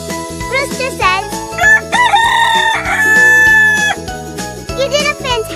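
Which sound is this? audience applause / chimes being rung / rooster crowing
rooster crowing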